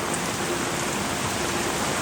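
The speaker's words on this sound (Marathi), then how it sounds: "एवढा पाऊस पडतोय" Heavy rain pours down in a dense, unbroken roar of drops, steady and loud throughout.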